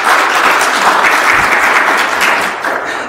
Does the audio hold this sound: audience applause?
yes